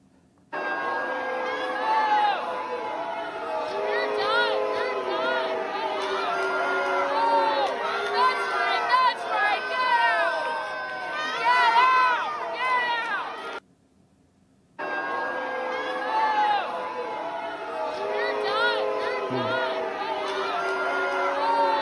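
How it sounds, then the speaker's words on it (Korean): Parents at a school board meeting in Virginia fill the room with sustained loud jeering and shouting, a dense mass of raised voices that rises and falls and breaks off briefly in silence partway through. "학부모들이 계속해서 엄청난 야유를 퍼붓는 그런 모습을 보여주고 있죠."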